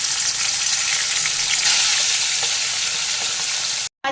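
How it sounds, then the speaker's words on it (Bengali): Turmeric-and-salt-rubbed fish frying in hot mustard oil, a loud continuous sizzle and crackle, close up and without talk, cutting off briefly near the end. "তেল গরম হয়ে গেছে, আর মাছগুলোকে নুন হলুদ মাখিয়ে ভেজে তুলে নেব।"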